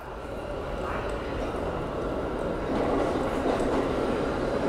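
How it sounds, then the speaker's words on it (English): An NYC subway train rolls into a station with a steady, loud rumble and broad roar that builds slightly toward the end, filling the platform. "So my train comes in 3 minutes"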